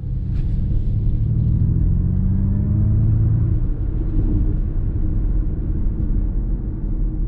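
A Ford Mustang Mach-E electric car accelerates, heard from inside as a steady low road rumble with a faint whine rising in pitch that fades after a few seconds.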